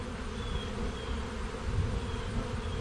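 Honey bees buzz steadily around an open hive during an inspection, a dense close swarm drone with no talking.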